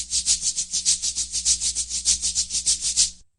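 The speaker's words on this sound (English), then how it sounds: "Right, that's the sound of maracas" Maracas shaken in a steady, quick rhythm of about six shakes per second, a bright hissy rattle heard close and alone for three seconds before stopping abruptly.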